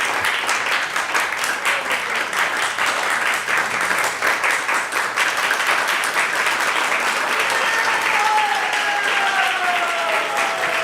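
An audience at an ISKCON Silicon Valley gathering claps for a sustained stretch, a dense, even applause that stays at a steady level with no talk over it.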